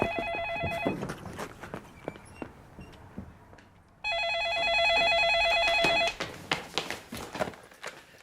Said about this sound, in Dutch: Jongens, telefoon!